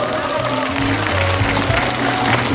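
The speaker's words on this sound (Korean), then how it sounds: "박수로 축하해 주십시오" Steady applause from an audience at an award ceremony during a national Pumba gakseori performance contest in Muan, Korea. The clapping is dense and continuous, with music playing underneath and some voices mixed in.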